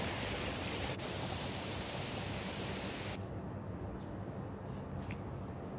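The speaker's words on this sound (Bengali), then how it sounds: "দেখুন কি সুন্দর ধাপে ধাপে জল পড়ছে" A waterfall at Chitrakoot near Jagdalpur, water tumbling down in steps, gives a loud, steady, broadband roar that fills the whole clip with no voices.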